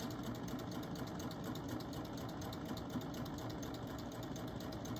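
A serger sewing machine runs steadily while stitching fabric into turned straps, a continuous close, fast mechanical whir with no pauses or talking.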